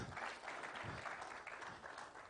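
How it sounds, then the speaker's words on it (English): Sustained audience applause fills a hall at the Kenya Manufacturing Summit and Expo 2021, steady and dense throughout with no pauses, moderately loud and unbroken by talk. "another round of applause for her, Tafadhal"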